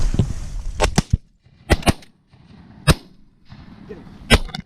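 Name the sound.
shotgun fired at waterfowl during duck hunt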